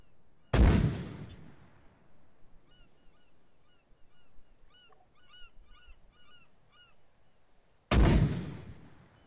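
Two loud, sharp booms from a 2B14 Podnos mortar firing in Arma 3, several seconds apart, with faint chirping ambience in between.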